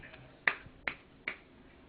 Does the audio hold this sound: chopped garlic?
no